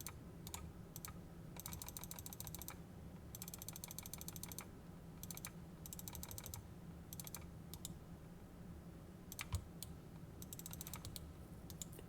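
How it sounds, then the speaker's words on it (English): A computer keyboard and mouse click in quick bursts during a game of Old School RuneScape, rapid clattery taps in clusters separated by short pauses, fairly faint and without talk. "sorry for the clicking. If you want some clicking ASMR"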